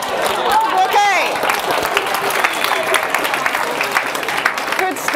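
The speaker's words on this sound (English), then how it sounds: "Give yourselves a big clap." Audience applause fills a presentation room, a steady wash of clapping that holds loud and even for several seconds, with some cheering and voices mixed in.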